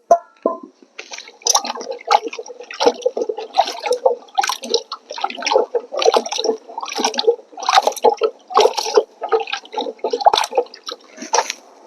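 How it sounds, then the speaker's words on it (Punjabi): Carrots being washed in a water bucket, with irregular close-up splashes and sloshing bursts separated by short pauses. "ਪਾਣੀ ਬਾਲਟੀ ਚ ਪਾ ਕੇ ਇਹਨੂੰ ਪਹਿਲਾਂ ਆਪਾਂ ਧੋਵਾਂਗੇ"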